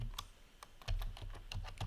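Quiet, close clatter of fingers typing on a computer keyboard, an irregular run of sharp key clicks with brief pauses, no voices.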